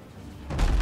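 A cannon shot fires in the Abandon Ship naval combat video game, one sudden deep boom after a quiet lead-in that swells and rumbles at the end.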